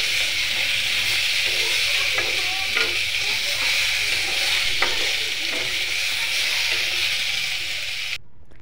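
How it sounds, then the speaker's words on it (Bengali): Cut potatoes fry in hot oil, a loud, constant sizzle with occasional stirring scrapes and clinks, running unbroken until it cuts off abruptly at the end. "আর সেম পদ্ধতিতে আমি কেটে রাখা আলুগুলোকেও তেলের মধ্যে ভালো করে ভেজে নেব।"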